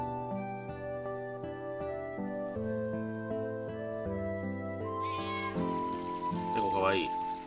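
A cat meows in the Final Fantasy IX video game, a few drawn-out, rising meows near the end over steady game music.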